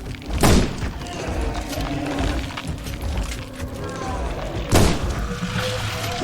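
Two loud bursts from an exploder monster in the horror game The Sinking City, each a sharp thudding blast with a splattering tail, set apart by a few seconds of low rumbling game ambience.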